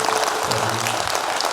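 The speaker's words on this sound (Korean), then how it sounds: "동의하시면 박수 한번 주시겠습니다." Applause from an audience at a reconstruction briefing meeting, a brief, loud and steady wash of clapping heard without any speech.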